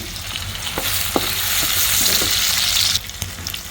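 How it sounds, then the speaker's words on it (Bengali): Spices fried in a pan for a dhundul and lentil dish, a steady loud sizzle with scattered clicks of stirring that drops off sharply near the end. "আমি এখন এখানে মশলাটা ভুনে নিচ্ছি ভালো করে"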